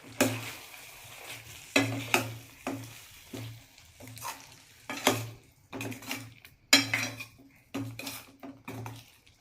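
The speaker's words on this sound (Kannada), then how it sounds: "ಒಂದು ಒಳ್ಳೆ ಮಿಕ್ಸ್ ಕೊಟ್ಬಿಡೋಣ ಈಗ ಚೆನ್ನಾಗಿ" A spoon stirs ground coconut and cashew paste in a pan, making repeated close scrapes and metallic knocks in irregular strokes with faint sizzling between them.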